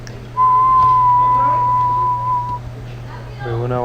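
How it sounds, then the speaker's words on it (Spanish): A person whistles one long, steady, clear note for about two seconds over a constant low electrical hum, then a brief murmur of speech follows. "por ejemplo, si silbo,"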